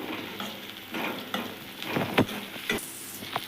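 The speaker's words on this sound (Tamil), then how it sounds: "இப்போ வெங்காயம் புதினா எல்லாமே நல்லா வதங்கிடுச்சு" Onion, ginger garlic paste and mint sauté in a pan for vada curry, making a moderate continuous sizzle broken by scraping stirs and spatula knocks, with no voices.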